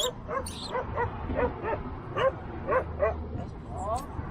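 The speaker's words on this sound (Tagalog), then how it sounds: "Ayan aso." Rapid yipping dog barks in a quick series on a mountain roadside near Taif, Saudi Arabia, fairly close, over low engine rumble with voices.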